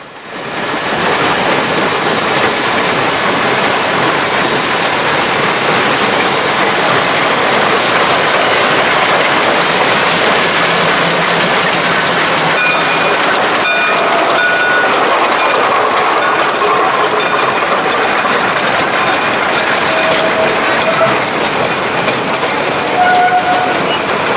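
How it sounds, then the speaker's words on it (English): A steam-era train pulled by engine 6 or 9 rumbles loudly past on the tracks at Old Threshers in Mount Pleasant, Iowa, with continuous rolling clatter, a long roar that shifts slightly as the cars go by. "various scenes of engines 6 and 9 with their trains on the railroad's north side"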